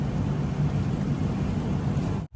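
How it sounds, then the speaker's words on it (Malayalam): Steady, dense hiss of heavy rain with a low rumble underneath, heard aboard the Godavari Express train, continuous and loud, cutting off abruptly at the end. "എന്നാലും മഴ നല്ല രീതിയിൽ പെയ്യുന്നുണ്ട്."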